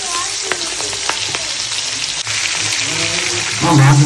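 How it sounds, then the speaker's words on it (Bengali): Pieces of fish fry loudly in hot oil, a thick, close crackling sizzle with scattered pops that grows fuller midway, and a voice briefly joins at the end. "এইভাবে আমি সব মাছগুলো ভেজে নেব সুন্দর করে ভেজে নেব"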